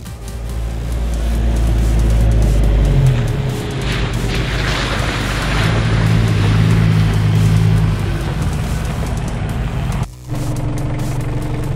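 A four-wheel drive rumbles steadily down a loose, shaly dirt track, its engine droning low and close with gravelly road noise throughout and a brief dip near the end.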